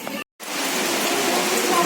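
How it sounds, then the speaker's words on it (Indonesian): Rain falls steadily at Telaga Sarangan lake in Magetan, East Java, a dense, even hiss that drops out for a moment and then returns loud and constant, with no talking. "Hujan guys."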